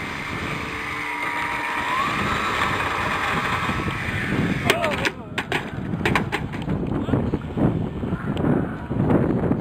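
Steady wind buffeting the microphone, with gusty rumble and scattered clicks and knocks partway through, at an RC Cub model plane crash.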